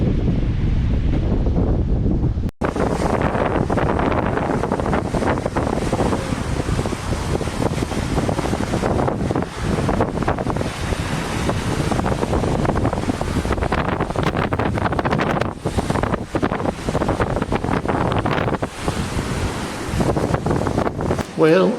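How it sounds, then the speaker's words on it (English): Strong wind by the sea cliff at Stevns Klint buffets the microphone in a loud, continuous rumbling roar with gusty surges, and surf may sound faintly beneath it. "it's so windy out there that you wouldn't be able to hear anything"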